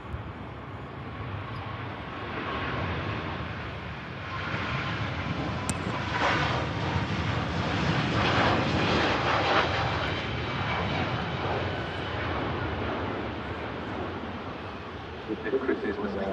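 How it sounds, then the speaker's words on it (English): Singapore Airlines Airbus A350-900 rolling for takeoff at Manchester Airport, a steady broadband jet roar at a distance that swells gently and holds, with people talking over it. "Singapore Airlines A350 now rolling."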